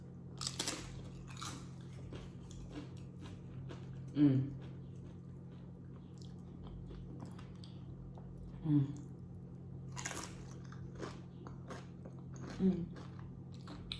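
Someone eats keto spinach artichoke dip up close, with soft crunchy bites and moist chewing at a few spaced moments, mostly quiet in between.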